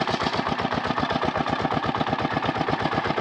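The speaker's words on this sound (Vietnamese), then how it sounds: "Đây em đang quay cho các bác cái mẫu máy cày ở quê em." A small walk-behind farm tractor (tiller) in the Vietnamese countryside runs steadily nearby, its single-cylinder engine giving a loud, fast, even chugging throughout with no talk.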